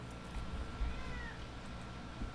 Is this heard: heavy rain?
no